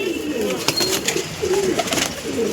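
Released pigeons coo in soft, repeated low throaty calls nearby, with some wing flutter and background bird noise and no talk.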